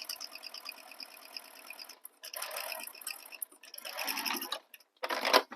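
A sewing machine stitches quilting lines over bag material in short separate bursts of rapid, faint mechanical ticking, with brief pauses between runs and a louder final burst.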